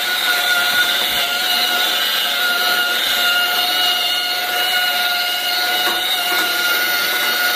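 A polishing tool spinning at about 1,000 RPM works over a stove surface, a steady, even whir with a high tonal hum that holds without a break throughout, close and moderately loud.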